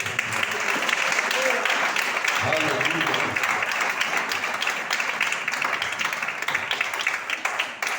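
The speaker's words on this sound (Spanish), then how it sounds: "Vamos a darle un fuerte aplauso al Rey." A congregation at a church service gives strong, continuous applause for several seconds, the clapping mixed with a single spoken exclamation and scattered voices.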